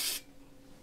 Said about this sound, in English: I'm going to spray my tablespoon first